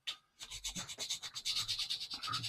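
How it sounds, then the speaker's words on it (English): A small plastic model kit part is rubbed back and forth on sandpaper in quick, even strokes, a close raspy scratching that repeats rhythmically with no voices. "if you're sanding, you can just literally walk it into position"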